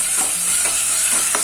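Tomatoes sizzle in a spice tempering, a steady close hiss with a few soft stirring scrapes through a short stretch and no talk.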